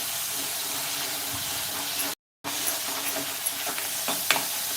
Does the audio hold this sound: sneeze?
no